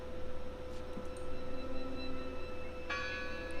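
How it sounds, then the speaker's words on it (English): A bell rings in the video game Draugen, with a faint tone near the start and a brighter metallic strike later, set against a steady hum in a quiet, eerie scene. "I heard the bell."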